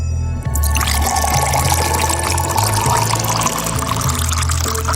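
Water pouring steadily into a glass, a continuous close splashing gush that starts with a brief trickle and runs for several seconds, with no talk over it.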